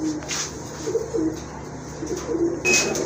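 Giribaz pigeons coo in a loft, soft repeated low murmuring calls with a brief brighter chirp near the end, close and steady against a faint background hum.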